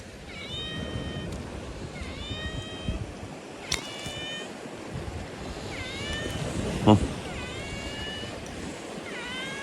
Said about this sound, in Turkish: Miyav miyav yapma bu benim.